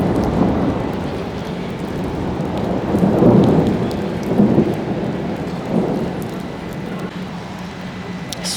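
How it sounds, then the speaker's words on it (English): Heavy rain falls steadily throughout with low rumbles of thunder swelling around the middle, a broad continuous storm wash with no talking. "Apparently, holy shit, it's thundering too."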